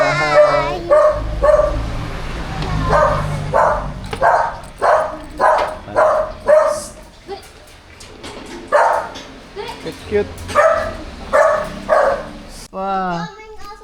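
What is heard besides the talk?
dog barking and yipping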